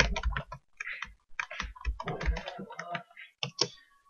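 Keys tapped on a computer keyboard while entering a Gmail password, short bursts of close clicks with brief pauses in between, fairly quiet and alone.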